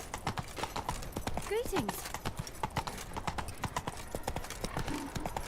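Roach, the horse in Witcher 3, gallops at a steady, rapid beat, rhythmic hoof clops under a voice speaking, with a brief neigh partway through.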